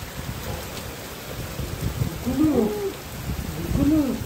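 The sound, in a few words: heavy rain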